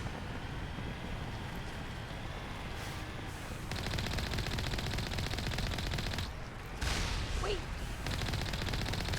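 A video game gun fires in long continuous bursts until it overheats, the dense rattling dropping out briefly twice before resuming. A voice speaks faintly over the gunfire.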